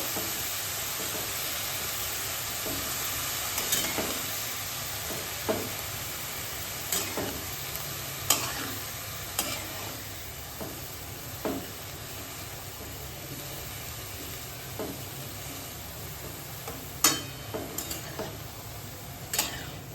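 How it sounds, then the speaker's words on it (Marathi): Cabbage stirred through a cumin and mustard seed tempering for Marathi kobi bhaji, with a steady low sizzle and hiss under scattered light spatula scrapes and taps on the pan. "जिरी मोहरीच्या फोडणीमध्ये आता आपण कोबी चांगला मिक्स करून घेणार आहोत"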